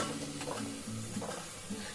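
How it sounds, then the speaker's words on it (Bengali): A paratha sizzles and fries in ghee in a pan, a steady close crackling sizzle with scraping stirring sounds from a utensil, continuous and without speech. "খুব সুন্দর করে ভাজা হচ্ছে"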